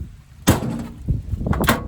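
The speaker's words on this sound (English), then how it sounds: "So this door closes" Door on a restored 1979 B300 camper van swinging shut, a sharp close thump followed by a softer rattle and a second latching knock, heard up close with no talking.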